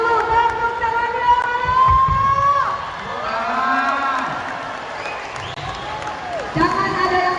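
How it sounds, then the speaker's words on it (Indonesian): A large rally crowd of volunteers at a stadium gathering claps and cheers, with a broad, noisy wash of applause mixed with raised voices and a loudspeaker in the background. "Tepuk tangannya."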